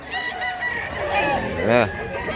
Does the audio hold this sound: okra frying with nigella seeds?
no